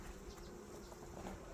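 Honeybees swarm around an open hive in a steady, faint buzzing drone that holds evenly throughout with no voices.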